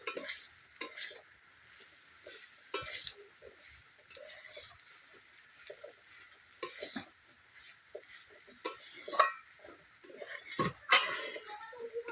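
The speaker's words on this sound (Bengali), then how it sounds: "একটু ভালো করে নাড়াচাড়া করে নিলেই হয়ে যাবে" A spoon scrapes and clinks around a pan as kochu flower and prawn curry is stirred, with mustard and cumin paste added, irregular metallic taps and scrapes over a soft background sizzle.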